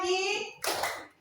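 A quick burst of hand claps from a group follows a voice during a classroom clapping game with call-and-response counting, the claps loud and close over about half a second.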